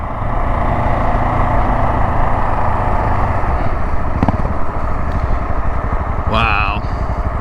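A KTM 690 Enduro R and a Honda XR650L ride together, their engines droning steadily and loudly throughout, with a person talking over the motors.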